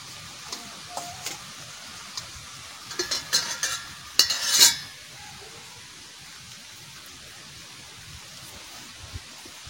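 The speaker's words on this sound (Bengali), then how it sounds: "এই হচ্ছে সিম ভাজা, সিম ভাজা দিচ্ছি" Sliced flat beans fry in a pan with a soft constant sizzle, broken by a cluster of louder stirring and utensil scrapes around the middle, then settling back to a gentle hiss; no talking.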